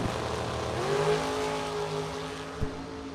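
Drag race cars at a bracket race in Carterville, Illinois, a steady loud engine roar with rising tones as the cars launch, ending in a sharp thump near the end.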